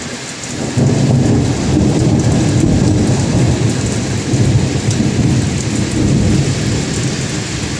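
Heavy rain pours down in Vienna, a dense, steady, loud roar, with rumbling thunder mixed through the downpour.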